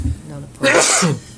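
A single sharp sneeze bursts out during a conservation commission meeting, following brief talk in the room.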